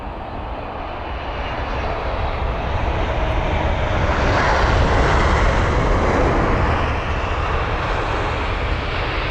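A Turkish Airlines Boeing 777-300ER from Istanbul at London Heathrow gives off a steady, loud jet-engine roar that swells slightly through the middle and holds for the whole stretch, with no talk over it.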